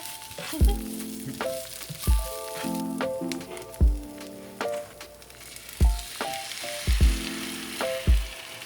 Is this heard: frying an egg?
yes